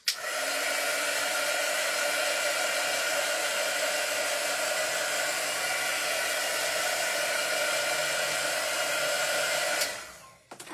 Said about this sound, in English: I'm going to take my heat tool.